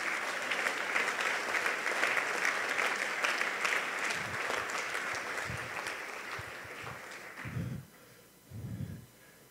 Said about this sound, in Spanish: denle un aplauso a nuestro Rey, por favor